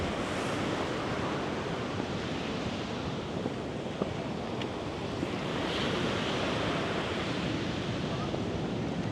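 Surf rolls and breaks steadily on a Crete beach near sunset, a continuous wash of waves with some wind buffeting the microphone and no talking.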